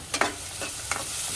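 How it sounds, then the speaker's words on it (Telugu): Onions, curry leaves, salt and turmeric fry in a pan for a pumpkin fry, a soft continuous sizzle with a couple of brief stirring scrapes near the start and middle. "వేపేసుకుందాం."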